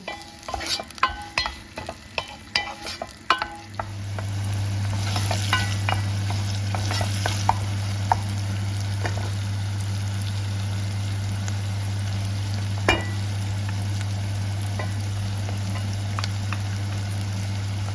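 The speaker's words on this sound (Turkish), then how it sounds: "Tavaya biraz yağ dökür, soğanları kavurur." Onions frying in oil in a pan, starting with a run of sharp clicks and scrapes, then settling into a loud, steady sizzle with a constant low hum beneath, occasional stirring knocks, no voices.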